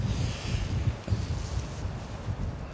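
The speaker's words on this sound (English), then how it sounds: "It is very cold and windy." Cold morning wind blows through a remote Arizona canyon, a constant low rush and rumble of gusts buffeting close by with no other sounds.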